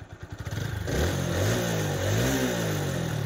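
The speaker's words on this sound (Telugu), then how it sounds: "అంటే ఆ ఇంజిన్ నాయిస్ అనేది చాలా బాగుంది" A motorcycle engine brought from Ongole starts with rapid pulsing beats, then revs up and holds a loud, close, steady drone with rising and falling pitch.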